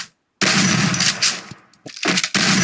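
Automatic gunfire in the mobile shooter Free Fire, loud rapid bursts of shots separated by short gaps of silence, with no talking over them.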